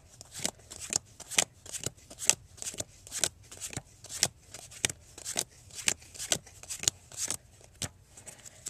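Playing cards dealt one at a time into two piles for a card trick, a steady run of about twenty crisp, close snapping flicks at a brisk, even pace with no voices.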